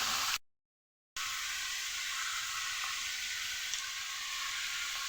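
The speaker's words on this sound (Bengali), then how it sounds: "এঁচড়গুলোকে একটু নুন আর হলুদ দিয়ে লাল লাল করে ভেজে নেব" Jackfruit pieces fry in hot oil with salt and turmeric, a steady bright sizzle heard close and alone after a brief gap of silence near the start.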